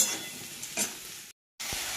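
Potatoes, pointed gourd and green chilies fry in hot oil in a wok, a soft sizzle with a few stirring scrapes, briefly cut out before resuming.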